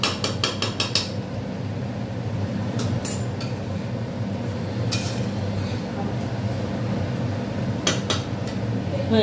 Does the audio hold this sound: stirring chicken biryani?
yes